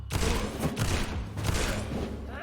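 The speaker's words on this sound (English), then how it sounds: "I just wanted to see if the new shotgun was any good" Shotgun blasts in the video game Vampyr, several loud booming shots in quick irregular succession, close and heavy, with no talking over them.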